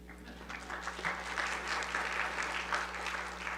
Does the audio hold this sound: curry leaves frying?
no